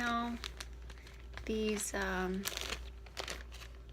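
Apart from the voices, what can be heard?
crinkling resealable plastic bags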